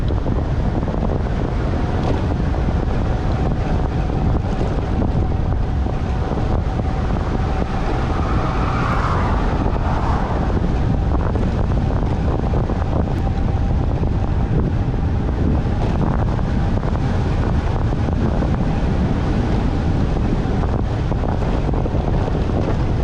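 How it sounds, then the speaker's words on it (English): Steady north wind rushes and buffets across the microphone while bike touring along a wide road lane, a loud continuous roar with gusty fluctuations and faint traffic rumble beneath, no talking. "I still got a north wind I'm fighting though."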